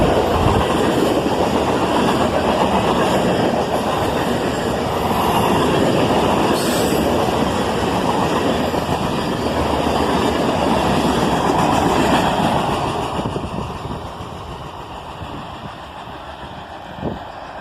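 A CSX freight train hauling a long string of center beam cars rolls past close by and brakes to a stop, a loud steady rumble of wheels with occasional squeal that fades and quiets near the end.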